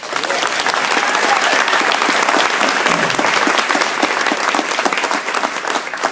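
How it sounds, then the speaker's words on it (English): A room full of people gives a retirement honoree a sustained round of applause, dense and loud clapping that holds steady throughout. "We should give her a round of applause."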